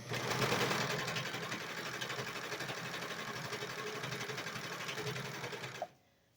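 A serger sewing machine stitches and trims hemp fabric in a rapid, steady mechanical whir that runs loud and even, then stops abruptly near the end, leaving near silence.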